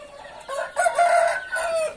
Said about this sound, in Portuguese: Fora as aves aí, né, galera, que estão espalhadas aí pra trás.